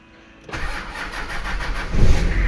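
A Nissan Patrol engine, fitted with an added ground wire, cranks briefly and catches, then settles into a loud rumbling run that swells near the end, close by.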